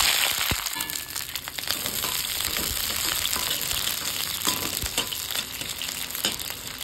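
Chopped onion fries in hot oil in a wok: a dense, close sizzle broken by sharp scraping and clattering stirs, with no talking.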